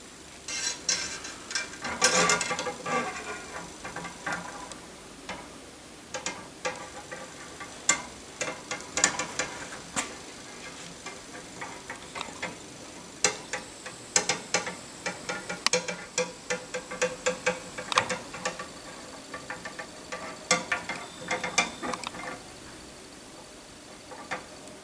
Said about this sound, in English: Now I'll thread the ACME screw all the way to the end.